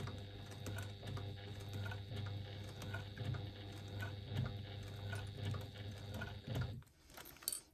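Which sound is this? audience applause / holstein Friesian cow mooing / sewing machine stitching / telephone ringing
sewing machine stitching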